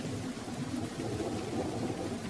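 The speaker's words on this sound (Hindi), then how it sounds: "कुछ देर बाद बारिश होना शुरू हो गई।" Steady rain pouring down in a dense, hissing wash with a low rumbling undertone, continuous and fairly close, with no voices.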